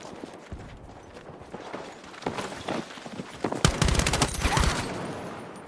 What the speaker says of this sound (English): People die when you shoot them.